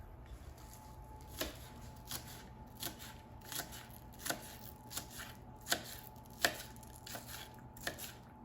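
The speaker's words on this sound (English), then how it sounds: "once you finish cutting the onion" A knife chops red onion on a board in a steady run of about a dozen crisp, close cuts, spaced roughly evenly over a quiet background.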